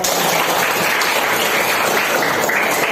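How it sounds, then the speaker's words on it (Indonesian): Steady applause from a classroom of students fills the room, dense and continuous clapping close by with no pauses. "Tepuk tangan."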